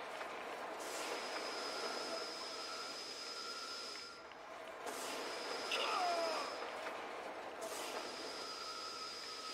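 A train in the video game Lego Batman 2: DC Super Heroes rumbles past at a distance with a steady hum and faint squealing wheels, fairly quiet, with no voices.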